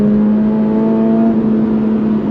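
During a heel-toe downshift under braking, a sports car engine gives a quick throttle blip: a loud, close, buzzing tone that holds steady and then fades as the revs drop, with no talk over it.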